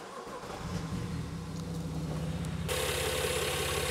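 A hot BMW engine cranks and catches in a workshop, then settles into a steady idle that grows louder and brighter partway through.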